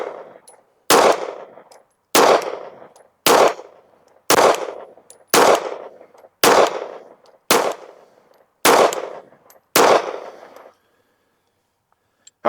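Sig Sauer 365 XL pistol firing ten reloaded rounds loaded with CFE pistol powder at an outdoor range, sharp loud shots spaced about a second apart, each followed by a short decaying echo.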